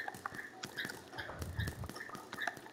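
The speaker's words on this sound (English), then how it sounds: "My horse, dude!" Faint, quick hoof clip-clops from a horse in Minecraft tap out an irregular trotting rhythm, quiet and fairly close.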